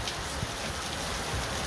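Steady rain falls at a stadium construction site, a dense, even patter on surfaces with scattered brighter drops, continuous and fairly close for the whole stretch.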